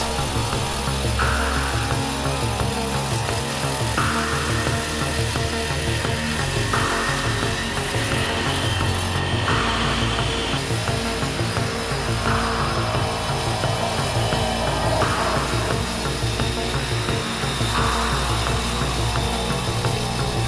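A CoreCut CC300M masonry paver saw from Diamond Products runs loud and steady, its motor and diamond blade droning continuously with a dense mechanical whine throughout and no talking.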